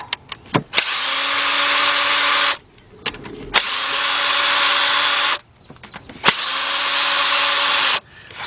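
Power drill with a 10mm deep socket turning a bolt on the 4.0 engine of a 2005 Nissan Pathfinder during a spark plug job: three loud, steady whirring runs of a couple of seconds each, separated by short pauses and clicks.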